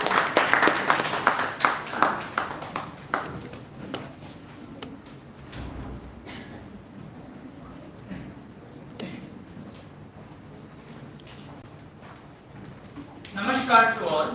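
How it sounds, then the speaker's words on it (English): An audience applauds on stage at the YUGMA 2025 event held at National Law University, Cuttack. A burst of dense clapping opens the clip and fades, a voice speaks over a quieter room, and a brief swell of clapping returns at the end. "can we please have a huge round of applause?"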